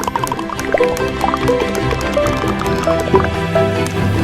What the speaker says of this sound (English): Maple syrup.